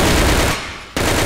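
Dense automatic gunfire from a gun in the shooting game CF China, a loud continuous burst that cuts out briefly and then resumes.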